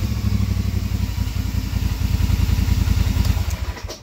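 A 2020 Polaris Sportsman 850 ATV engine, parked and revved toward 1800 RPM, gives a close, loud, steady mechanical drone with rhythmic clatter that holds evenly, then cuts off sharply at the end.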